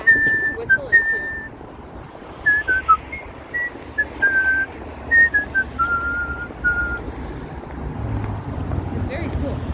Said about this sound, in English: he can whistle in tune